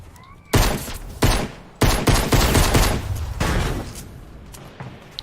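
Loud gunshots crack out in a video game as a target is shot down, with several sharp separate blasts and then a rapid volley, all close and dominant over faint background.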